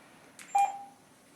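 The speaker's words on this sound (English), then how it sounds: "I do apologise about the beeping. So these radios have a tendency to do that." Two short electronic beeps come from an Anytone DMR handheld radio as its menu buttons are pressed, a faint tap followed by a brighter, louder tone, close and otherwise quiet.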